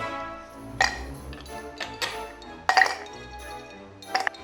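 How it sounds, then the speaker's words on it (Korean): Ice cubes dropping into a metal cocktail shaker for a margarita, a few bright clinks and rattles spaced irregularly, close and clear with no talking. "쉐이커에 얼음을 채워주시고요"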